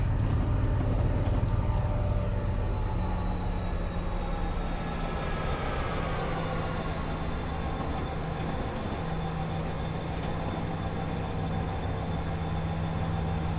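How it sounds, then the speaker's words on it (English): In Train Simulator 2017, a long coal train passes on a California line with an EMD SD75 locomotive nearby, giving a continuous heavy rumble of rolling wagons, a steady engine drone and faint tonal squeals. "Pretty long AI train with all sorts of cargo on board."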